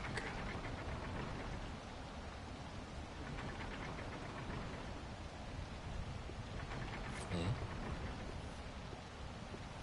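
Endless rain falls in the Wild Hearts video game as a steady, soft, even hiss of downpour that stays faint and unbroken, with a brief louder rush near the end.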